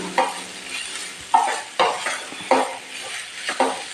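White sorghum breakfast stirred in a pan, a spoon scraping and clinking against the metal in about six short, regular strokes, close up and clear over a soft background hiss.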